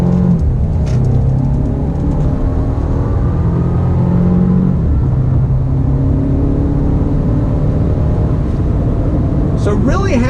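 A 2019 Mercedes-Benz A220 pulling out of a corner, its engine droning and rising gently under steady road rumble heard from inside the car, with a brief change in pitch partway through.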